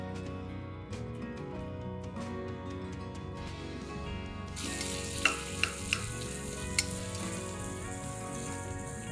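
Onions dropped into hot oil for vegetable biryani: a quieter crackle jumps midway into a loud, broad sizzle, with a few sharp pops and clinks as they fry.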